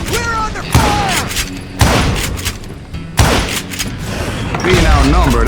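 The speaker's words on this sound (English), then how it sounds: "Who's shooting at us? We're under fire!" Gunfire in a shootout in Call of Juarez: Gunslinger: several loud booming shots spaced about a second apart, with excited voices talking between the blasts.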